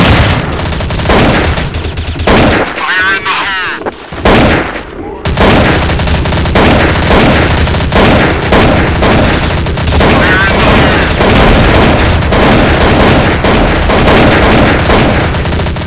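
Loud, sustained automatic gunfire in the Counter Strike Source zombie mod rattles almost continuously, with a brief lull before the shooting resumes, while players talk over the barrage.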